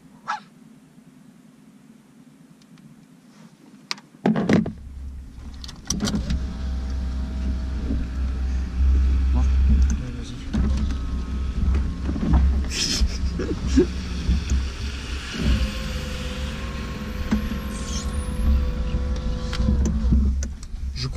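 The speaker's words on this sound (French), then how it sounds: "Je crois que j'ai les vitres de voitures les plus lentes du monde." A car's electric window motor whirs very slowly and steadily for a long stretch after a sharp click, with a low engine hum and occasional small knocks underneath.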